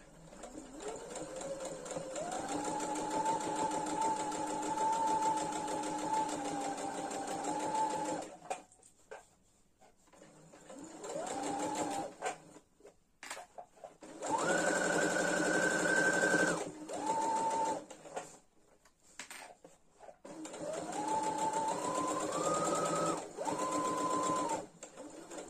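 A sewing machine stitches a fabric mask pouch in several bursts, a loud steady whirring hum that starts and stops with short pauses between runs.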